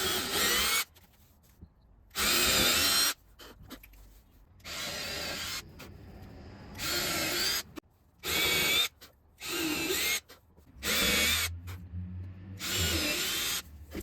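A power drill bores holes into a wooden table saw sled fence held down by clamps, running in repeated short bursts of high whine separated by quiet pauses, close and loud.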